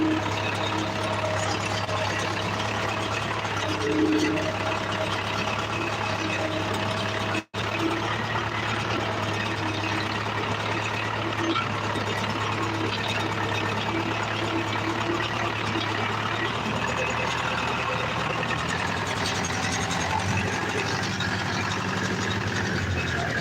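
A steady, low old tractor engine idles continuously and close by, a rough mechanical drone that holds level throughout with no voices.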